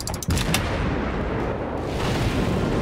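Naval gunfire shells striking a ship in the World of Warships video game, producing a loud, dense explosive roar that fills the whole stretch after a few brief sharp cracks at the start.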